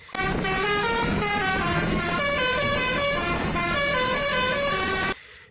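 A toy telolet bus horn plays its rapid, bright melodic honking tune continuously for about five seconds, loud and close, then stops abruptly.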